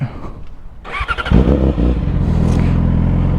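A Yamaha R6 sport bike on a ride home, rumbling quietly, then catching and revving up sharply before settling into a loud, close, steady engine drone.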